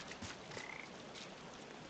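A frog croaks in the video game Papo & Jo, with faint, short throaty calls over a soft, constant ambient hiss.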